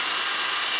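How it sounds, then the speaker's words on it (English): A power drill bores into wood, drilling starter holes in the corners of a cut-out for a jigsaw on a birdhouse seed tray; a steady, loud high-pitched whir runs unbroken throughout. "I'm going to drill in the corners so my jigsaw can have a starting point."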